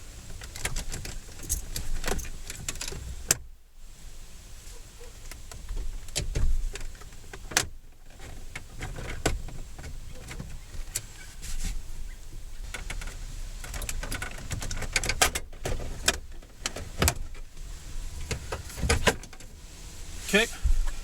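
Interior trim panel being pried off a 2005–2012 Ford Crown Victoria police car: repeated sharp plastic clicks, snaps and rattles in irregular bursts, close by, with brief quiet gaps and some clattering handling noise.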